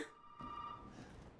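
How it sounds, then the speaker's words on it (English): A telephone rings in the video game Resident Evil 7, a steady electronic ring that is faint and sustained over low background rumble. "Ring, ring, ring. It's the phone right there"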